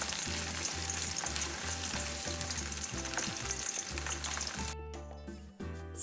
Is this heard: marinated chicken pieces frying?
yes